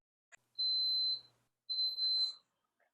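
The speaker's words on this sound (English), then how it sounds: "Okay, so the beeper just went off. It'll go beep, beep, beep." Two long electronic beeps from a pressure cooker, a steady high tone sounding twice with a short gap, fairly close and clear against a quiet background.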